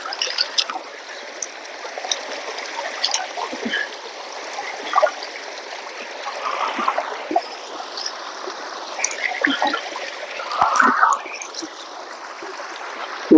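Mountain stream flowing down from the Western Ghats, a steady trickling and gurgling of water with occasional splashes and faint croaks, continuous and close throughout, with scattered brief vocal sounds in the background.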